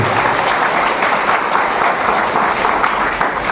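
A large audience at an AWPL achievers' celebration bursts into thunderous, sustained applause for their parents, a steady roar of clapping from many hands that fills the hall without a break.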